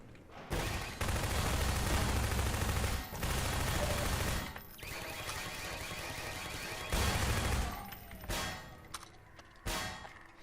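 Gunfire in the shooter game Prospekt, long dense volleys of rapid shots filling the soundscape with short pauses between bursts, heard almost entirely without talk.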